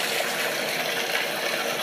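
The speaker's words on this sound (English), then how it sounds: "Now let's put in hot water." Hot water pours steadily from a tap into a bathtub, a constant, close rushing gush with no break.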